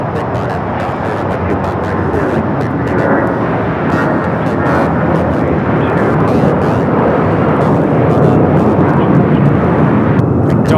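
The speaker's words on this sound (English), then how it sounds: "2568 taking off to San Antonio, Texas on the A319" A Delta Air Lines Airbus A319 takes off from LAX, its jet engines building a loud, sustained, rumbling roar that fills the whole stretch.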